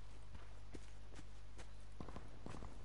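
Faint footsteps from the video game Call of Duty: Black Ops 4 tap in a loose irregular pattern over a low steady hum, with a few sharper steps toward the end and no talk.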